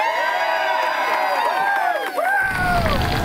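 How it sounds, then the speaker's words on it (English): A crowd cheers and whoops steadily around an outdoor grill demonstration with lamb chops on a road grill team's grill, followed by a brief dip and then the sizzle of food hitting hot grates. "I've never had a cheer like that for oiling my grill before"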